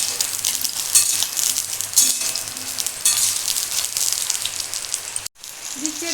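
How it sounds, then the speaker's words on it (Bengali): Pieces of pointed gourd fry in hot mustard oil in a wok, a close, dense crackling sizzle that stays steady, with a brief drop near the end as it is disturbed, and no talk. "পটলগুলো আমি ভেজে নেব"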